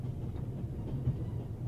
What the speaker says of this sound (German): Ich bremse erstmal den Zug ab